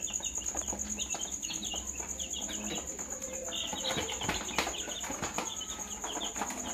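A box of about a hundred young KUB chickens, roughly two weeks old, peeps and cheeps continuously with a steady high-pitched chirping, alongside rustling, shuffling and faint wing flutters nearby.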